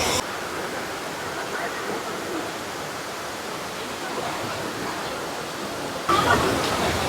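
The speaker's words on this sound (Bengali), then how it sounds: "আর এখানে একটা এই আর কি নদী টাইপের।" A small monsoon-swollen river rushes beside a hill road near Kurseong. It makes a steady, close roar of broadband water noise that barely changes, then grows louder near the end.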